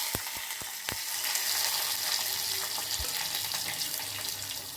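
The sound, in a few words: carrot frying in oil with tempering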